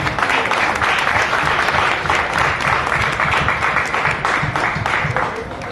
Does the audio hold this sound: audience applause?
yes